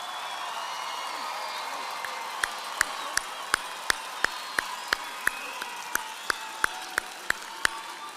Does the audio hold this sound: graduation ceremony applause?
yes